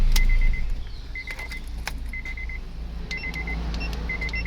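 A car's electrical system chimes after the ignition key is turned off, repeating short electronic beeps in spaced groups over a steady low hum, with a brief clunk at the start.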